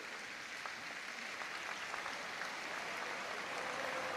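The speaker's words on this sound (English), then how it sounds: "Give a big round of applause," Steady crowd applause fills an arena at a dog obedience display at Crufts 2017, a dense, even patter of many hands clapping at moderate distance without a break.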